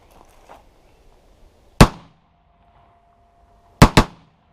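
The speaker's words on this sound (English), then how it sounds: "now we're going to do a single shot and then a double tap" An AR-15 rifle with no muzzle brake fires a single loud shot, then after a pause a quick double tap of two sharp, cracking reports in close succession, outdoors and near.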